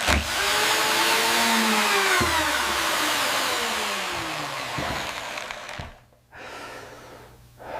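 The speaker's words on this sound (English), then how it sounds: "Use 220 grit sandpaper and just follow those wood lines" A solid oak vanity is sanded with 220 grit sandpaper, giving a continuous loud whirring, rasping power-sander drone up close that fades and cuts out briefly near the end before resuming.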